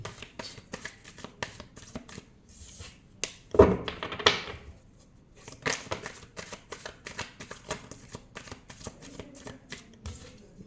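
Tarot cards shuffled by hand, with quick riffling flutters and soft card taps in uneven bursts, close and fairly quiet, with a louder thump partway through and no clear talking.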